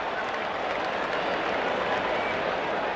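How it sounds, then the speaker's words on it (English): A big crowd at the Melbourne Cricket Ground roars and applauds during an India versus Pakistan World Championship of Cricket final in 1985, a dense, sustained wash of cheering with no break. "The crowd's gone mad at the Melbourne cricket ground."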